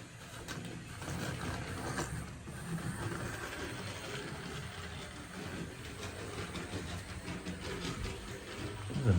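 A model locomotive runs along freshly laid track on an 8x4 layout, giving a steady, fairly loud rumbling clatter throughout with a rise at the end.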